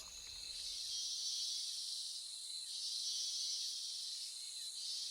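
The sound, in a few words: rainforest insects chirping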